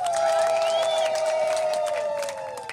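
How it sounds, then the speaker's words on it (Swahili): A crowd at a gathering lets out a long, high, wavering ululation that carries over a bed of cheering and scattered clapping, loud at first and easing slightly toward the end. "Tumshangilie Mungu kwa makofi na vigelegele tafadhali."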